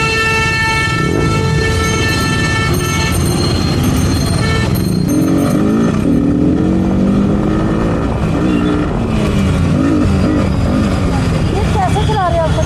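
A motorbike being ridden, its loud engine drone and road noise running continuously and close, with people talking over it throughout.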